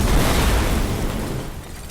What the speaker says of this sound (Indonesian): ledakan granat tersebut